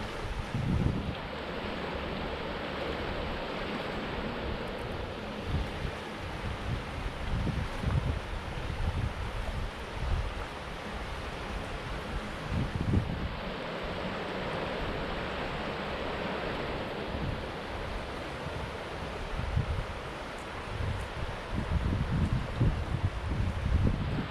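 Euharlee Creek runs toward the Etowah River near a covered bridge and an old grits mill in Georgia, giving a continuous broad rush of flowing water, steady and close, mixed with gusting wind on the microphone.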